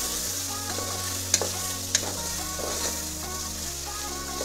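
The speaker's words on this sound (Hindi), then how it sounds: "अब हम लोग इसको मिक्स करेंगे।" Chicken with ginger-garlic paste and salt sizzles steadily in a hot pan while being stirred, with a couple of sharp utensil clinks against the metal over the continuous frying hiss.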